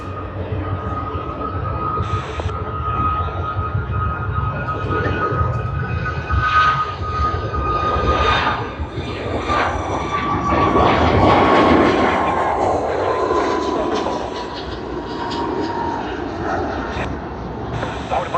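An Emirates A380 on pushback at Sydney Airport, its jet engines producing a loud sustained roar with a whining tone that rises and falls, alongside other airport noise.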